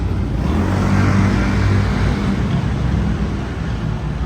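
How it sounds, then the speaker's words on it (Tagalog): Loud, steady rumble of heavy trucks and road traffic rolling past close by under a bridge, with engines droning throughout and no voices. "talagang maraming mga truck nang dumadaan dito. Medyo maingay."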